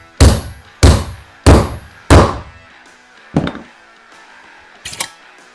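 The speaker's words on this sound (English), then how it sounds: "You want to make sure that you're only hitting the inner race of the bearing and not the cage." A pipe is hammered down onto the inner race of a motorcycle triple clamp steering bearing. Four loud, evenly spaced metallic thunks ring briefly, then two softer taps follow after a pause, close up and with no talk.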